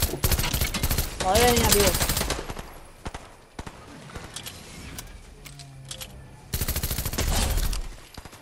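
Video game gunfire aimed at the player, bursts of rapid automatic shots in two loud clusters, with someone talking excitedly over the firing and scattered single impacts in between.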